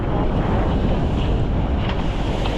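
Strong wind roars across the microphone aboard a solid sailing boat in 25-knot winds over the Solent, with wind over tide and swell, a steady loud buffeting broadband rush mixed with waves and water for the whole stretch.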